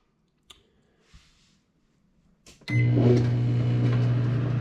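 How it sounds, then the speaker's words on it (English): A microwave oven in an off-grid Minnesota deer hunting cabin: a few faint clicks and button taps, then the oven starts with a sudden steady electrical hum and whirring drone that continues loud and even. "I think I've only used this microwave once"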